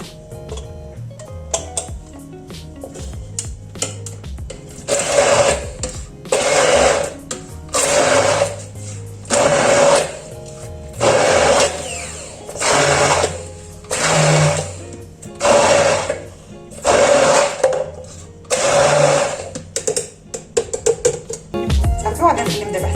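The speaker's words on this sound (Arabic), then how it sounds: "دابا غادي ندوزهم في الميكسور." An electric mixer beats an apple and vanilla mixture in a home kitchen. A steady mechanical whir starts and stops in roughly a dozen short bursts, close up and fairly loud, with brief pauses between bursts.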